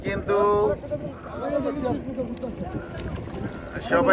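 A speedboat runs on a freshwater lake, its engine and hull noise mixed with wind buffeting the microphone, while people talk loudly over it throughout.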